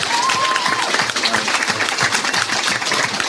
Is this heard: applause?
yes